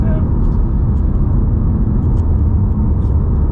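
A BMW G80 M3 Competition with xDrive accelerates on an icy winter road, its engine a loud, steady low rumble heard from inside the car throughout.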